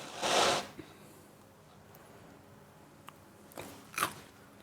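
Close bites into crunchy crust on a heavily loaded pizza, one loud crunch at the start followed by quieter chewing and a couple more crisp bites near the end, with no talking.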